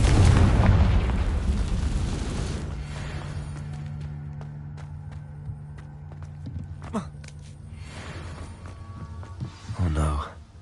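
A Confringo fire curse in Hogwarts Legacy erupts in a loud blast at the start, then fades into a quiet ambient hum with scattered clicks and taps, and a second burst follows near the end.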